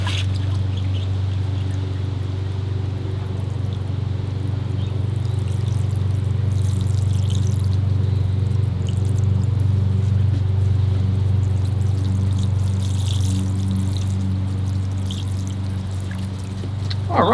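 Water is poured steadily over a bonsai grove planted with moss, a continuous splashing flow that runs for the whole stretch over a constant low hum, with no voices.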